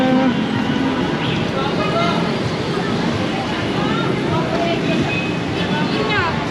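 Busy road traffic in the Philippines with car horns tooting now and then over a constant loud rumble of engines, while a person talks nearby.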